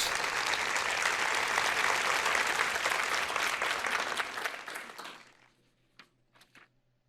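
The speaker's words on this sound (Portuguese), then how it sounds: "eu não me importaria se alguém aplaudisse isto" Church congregation at a Joyce Meyer sermon claps in a full, even burst of applause that fades out after about five seconds, leaving a few scattered last claps in near silence.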